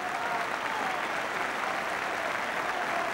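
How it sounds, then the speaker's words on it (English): A football stadium crowd at Spurs versus Manchester United applauds for the number 10 player, a continuous wash of distant clapping and crowd noise holding steady and even throughout. "And I think most of the applause is for the number 10."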